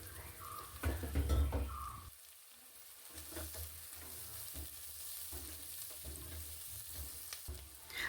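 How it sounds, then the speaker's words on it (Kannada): Chopped coconut pieces and onion fry in hot oil for a Kerala-style kalthappam, giving a soft, steady sizzle with a few louder stirring scrapes near the start and no talking. "ತೆಂಗಿನಕಾಯನ್ನು ಸಣ್ಣ ಸಣ್ಣದಾಗಿ ಕಟ್ ಮಾಡ್ಕೊಂಡಿಟ್ಟಿದ್ದೆ ಅದನ್ನು ಕೂಡ ಇವಾಗ ಹಾಕ್ಕೊಂಡು ಫ್ರೈ ಮಾಡ್ಕೊಳ್ತೀನಿ"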